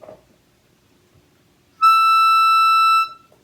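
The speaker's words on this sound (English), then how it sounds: "So let's say I have a keyboard here and I play a high sound." A single high note held for just over a second on a reed keyboard, a clear bright tone with rich overtones that starts abruptly after a quiet pause and stops cleanly.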